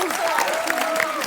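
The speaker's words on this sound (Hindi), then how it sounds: "एक बार बेगम जान की पूरी स्टार कास्ट के लिए ढेर सारी तालियां हो जाएं।" Studio audience on a comedy talk show clapping for a film's star cast, a short loud burst of applause with a tonal voice or music line gliding underneath.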